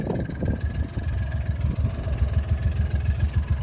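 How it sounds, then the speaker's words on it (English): A John Deere Gator diesel utility vehicle idles on a muddy farm with a close, steady low rumble and a fast, even chug. "it is a diesel gator"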